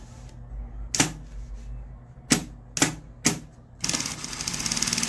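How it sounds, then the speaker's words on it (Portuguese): A sewing machine stitching a zippered bag organizer gives a few short separate bursts of sharp mechanical clatter, then settles into a continuous rapid run of stitching, close and fairly loud with no talk. "Eu vou bater uma costurinha daqui pra cá"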